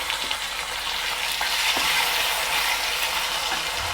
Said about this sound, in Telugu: పప్పు వేగిన తర్వాత టమాటా వేసుకుంటున్నాం.